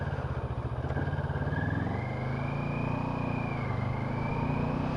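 A CF Moto MT650 motorcycle carrying a passenger rides over a rough, wet, slippery road in Nepal, its engine droning steadily close up with a rising and falling pitch under a constant rattle, and no talking.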